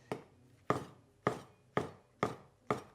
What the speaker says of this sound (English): all we have to do is slice up your shiitake mushrooms